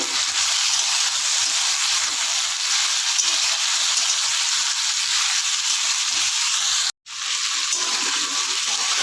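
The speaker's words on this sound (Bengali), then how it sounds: "এবার আমি কেটে রাখা পেঁয়াজটা দিয়ে দিচ্ছি। পেঁয়াজ আর আলু আবার একটু নাড়াচাড়া করে নেব।" Potatoes and chopped onion fry and get stirred in a pan for an onion-stalk, eggplant and potato chorchori, giving a steady, loud, broadband sizzle with one brief cut near the end.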